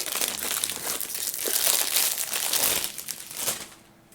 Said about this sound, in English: There's some of that nice cellophane sound